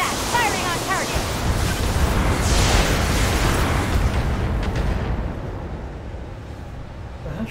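Mech weapons firing in the video game Battletech, a sustained roaring barrage of booms and bursts that fades toward the end, with brief radio-style voice chatter.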